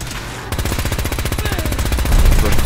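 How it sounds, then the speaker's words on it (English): Rapid, continuous Gatling gun fire in a video game, a loud unbroken burst of shots that kicks in after a half-second lead-in and keeps hammering steadily to the end. "I love the sound of the Gatling gun."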